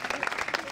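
Audience applause for a local sports team at its 2015-2016 season presentation in Latina, a dense, steady burst of clapping lasting under a second with no pauses.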